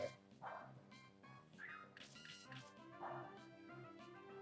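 A dog Pokémon in a Pokémon video game lets out short, synthesized yelping cries and barks, repeated several times at a low level over game music.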